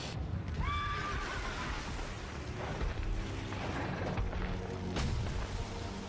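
Giant horses whinny and neigh in God of War II over a dense, rumbling backdrop of hoofbeats and distant booms, with a couple of loud cries near the start.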